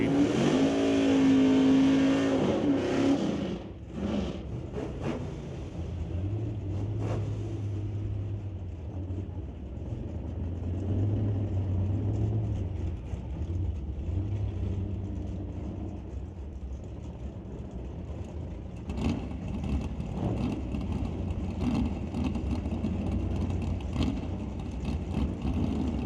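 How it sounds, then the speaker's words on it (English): Drag race engines roar as a 1967 Chevy lines up against a flat black Camaro in the Shifters category, a loud revving rumble that rises and falls and then holds in a steady drone, with no talk. "Rich Graves in the 67 Chevy. Taking on that flat black Camaro over there in the right lane."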